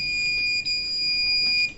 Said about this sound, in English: A slow beep starts playing to let us know that the device is ready for operation